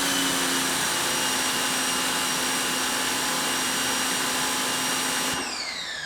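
A Westinghouse EPX3050 electric pressure washer fitted with a Ryobi nozzle runs loud and steady with a dense hissing whine, then shuts off near the end as the motor winds down.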